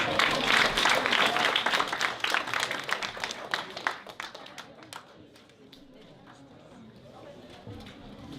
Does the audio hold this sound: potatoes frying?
no